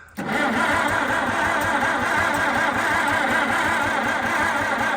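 A White 2-44 tractor engine is cranked over with the choke on and does not catch, giving a loud, steady, rhythmic churning that starts abruptly and runs unbroken for about five seconds.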